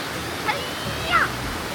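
Steady broadband rushing of Huai Kaeo waterfall in Chiang Mai, Thailand, moderately loud and continuous, with a couple of brief faint higher sounds over it.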